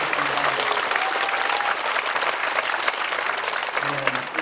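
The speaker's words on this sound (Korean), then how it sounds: "우리 다 같이 한번 뜨거운 박수로 축하와" A Korean church congregation at an ordination thanksgiving service breaks into warm, continuous applause, a full roomy clapping that holds steady for several seconds with faint voices mixed in.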